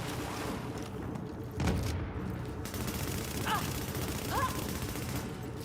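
Video game battle gunfire crackles continuously in dense, steady volleys, with a heavier burst of shots partway through and brief shouts over the top.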